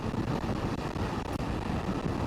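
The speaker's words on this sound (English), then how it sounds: "Oh, it's windy." Constant rumbling wind buffeting on the microphone while riding a 2024 Ducati Multistrada V4S on a blustery day, loud and unbroken, with a couple of brief dips and no voices.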